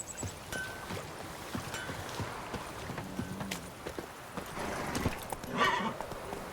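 A horse galloping in The Witcher 3 video game, with rapid clip-clop hoofbeats at a steady pace, a brief whinny near the end and faint background ambience.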